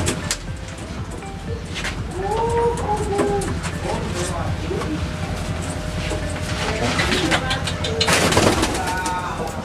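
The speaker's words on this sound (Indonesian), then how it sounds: "ini teman-teman merpati yang ketiga saya, yang baru." Pigeons kept in a coop make soft cooing calls amid steady background noise from a busy outdoor setting, with a few rustles and clatters close by.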